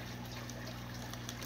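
Water pours steadily from a bag into an aquarium tank as a fish is tipped in, a continuous low gushing trickle at a soft level with no talk.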